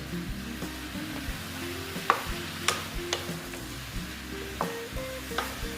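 A spice mix being stirred through ash gourd in a pan, with a low sizzle running underneath and sharp utensil scrapes and taps coming at irregular intervals, fairly quiet and with no voices.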